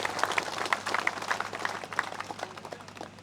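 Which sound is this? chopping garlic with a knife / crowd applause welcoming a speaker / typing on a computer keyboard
crowd applause welcoming a speaker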